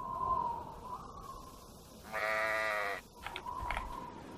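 Sheep bleating on a farm in the trading game Patrician 3, a single loud, drawn-out bleat near the middle followed by a couple of shorter, fainter calls over a quiet game background.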